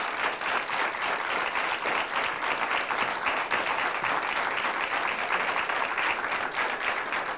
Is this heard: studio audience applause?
yes